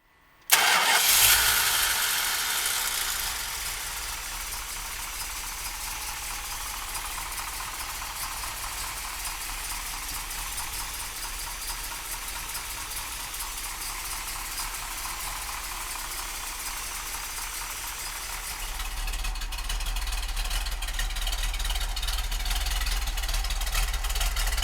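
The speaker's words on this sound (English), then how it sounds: "we'll fire this 446 pack up for you right now" A 1971 Plymouth Barracuda's 446 V8 cranks and catches with a sharp burst, then settles into a steady, rumbling idle that swells slightly louder near the end, heard close with no talking.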